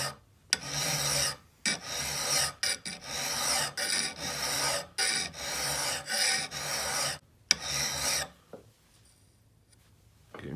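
A hand file rasps across the edge of an axe head in long, steady strokes, close and loud, with brief pauses between passes. The filing stops near the end, leaving quiet handling sounds.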